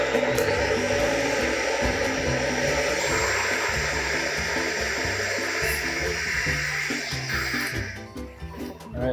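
A kitchen blender whirs steadily, close and loud, as it purées a sauce of ginger, chili, tamari and a little water, with a brief dip near the end before it revs again.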